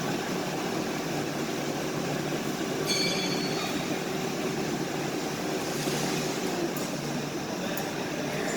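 A refrigerant recovery machine runs steadily while clearing a vehicle's AC system, a constant mechanical hum and whir with a broad hiss that continues without a break, moderately loud and close, with no voices.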